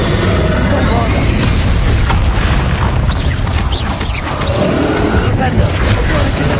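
Bombarda spell blasts go off in Hogwarts Legacy amid a loud, dense rumble of booms and roaring noise that barely lets up, with brief whooshing streaks on top and talking mixed in.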